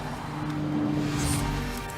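A 2017 Nissan GT-R driving on a track gives a steady, close engine drone with a brief rushing swell partway through. No one speaks.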